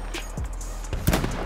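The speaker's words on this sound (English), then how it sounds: "There's like 600 people shooting at my ass." Gunfire from a Battlefield 5 firefight on Solomon Island, a few sharp loud shots cutting through a steady background rumble.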